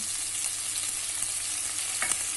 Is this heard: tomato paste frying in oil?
yes